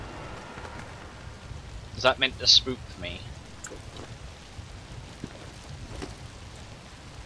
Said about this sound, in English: It would have to be raining